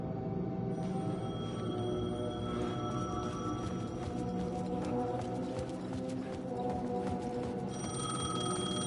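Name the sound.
payphone ringing in video game Alan Wake 2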